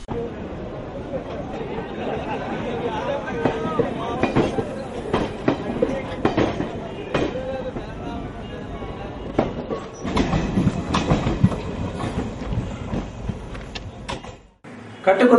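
A train runs past a railway station with rumbling wheels and clattering carriages, loud and close, while a voice talks over much of it.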